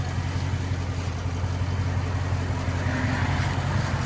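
A 2016 Dodge Challenger 392 HEMI Shaker Edition with dual straight-pipe exhaust idles steadily, a deep rumbling burble held close and loud throughout with no break or talk.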